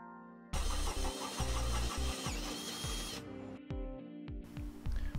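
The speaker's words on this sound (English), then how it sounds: "Now we'll go ahead and drill out the second hole" A power drill drilling a hole through the metal cross tube of a trailer hitch receiver starts up sharply and runs loudly with a rough, grinding whine, briefly easing off before revving again.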